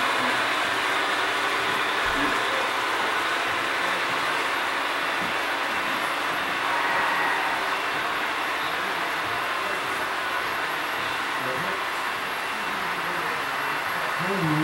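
Model railroad branch line train running on a club layout at an open house, a steady continuous rolling rumble with light rail noise that stays fairly even throughout, with no talking.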